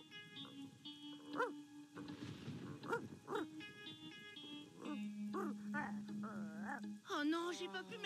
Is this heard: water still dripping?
no